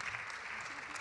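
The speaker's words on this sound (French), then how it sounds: "Je vous demande de les applaudir très, très fort." Audience applause for a panel of four debaters at a women's conference on the future of work, a steady dense clapping wash held for a moment with no pause.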